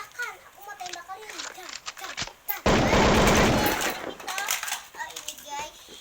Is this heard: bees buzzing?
no